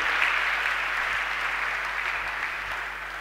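Sustained applause from a large audience at a solemn religious convocation, a dense, steady wash of clapping that carries on without a break and fades slightly toward the end, with no one talking over it.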